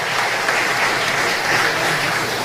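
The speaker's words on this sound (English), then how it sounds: "Another round of applause for Dave Edward Foreman." Sustained audience applause at a patriots' tribute ceremony in Belize, a dense, even wash of clapping hands filling the whole stretch with no voices over it.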